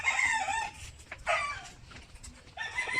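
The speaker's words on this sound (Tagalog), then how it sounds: "Grabe, oh, daming manok, oh." Several chickens cluck and squawk close by, with a rooster's crow rising among the overlapping calls.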